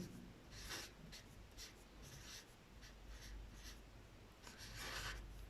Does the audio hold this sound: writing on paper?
yes